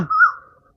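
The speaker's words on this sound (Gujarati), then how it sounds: "લેમડા ઉપર કોયલ બોલે છે" A koel calls once from a neem tree, a single short rising whistle heard clearly and close, fading within a second.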